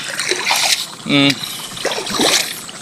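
Irrigation water trickles and splashes steadily into a harrowed field nearby while a person talks over it, with a short tonal hum breaking in midway.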